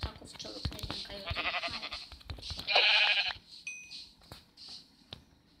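Sheep in the Minecraft video game bleat several times, short nasal cries spread across the stretch, with someone talking over the game sounds.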